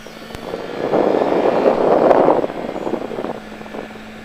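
A vehicle engine swells in a broad roar as it accelerates out of a bend, peaking midway then easing off, with wind rush throughout and no talk.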